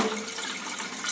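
Water streams from an Enagic Leveluk K8 Kangen water ionizer in a short, steady hiss of running water heard close up and at low volume, with no voices.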